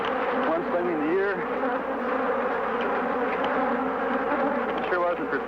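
A dense swarm of killer bees buzzes loudly and steadily right around a beekeeper, many wings droning close by in a thick, unbroken hum.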